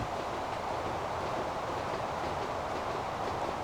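A train in Transport Fever rattles along the main line at speed, a steady, dense rumble of wheels and carriages that holds even and unbroken throughout, with no voices.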